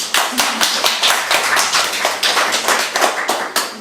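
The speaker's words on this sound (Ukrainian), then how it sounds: "Давайте оплесками поаплодуємо" Church congregation applauding during a sermon, a close, loud run of clapping that pulses in a rough rhythm, roughly several claps per second, with no speech.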